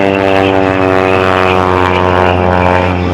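Lycoming flat-four engine of a Decathlon aerobatic plane performing at an airshow, a loud, steady, droning propeller roar with a strong low hum, continuous and close throughout.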